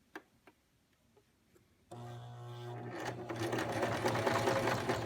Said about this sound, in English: with the largest stitch your machine has, baste them together